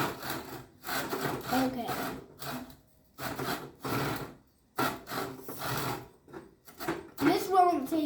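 A handsaw cuts through wood in a series of rough, rasping strokes that start and stop in an uneven rhythm, with short pauses between bursts; a voice speaks briefly near the end.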